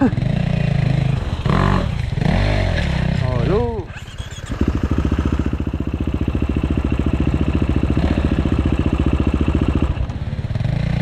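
Yamaha 450 dirt motorcycle on a Beskidy mountain trail, its engine revving hard in repeated loud bursts, dropping briefly near four seconds, then holding a steady close rattling drone until the end, with no speech over it.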